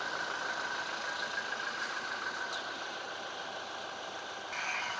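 A Toyota 2GD diesel engine in a Fortuner or Hilux Revo idles after a purging treatment, giving a steady, even hum with a constant broadband rumble and no voices.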